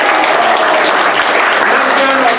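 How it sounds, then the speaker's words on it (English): A theater audience at an improv comedy show bursts into loud, sustained applause, a thick wash of many hands clapping close and steady throughout. "so clap for Doug up there"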